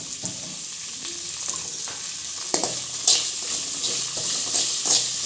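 Curry leaves and thuthuvalai leaves with salt sauté in a hot pan, crackling and sizzling with occasional stirring scrapes and louder pops in the later seconds, no talk over it.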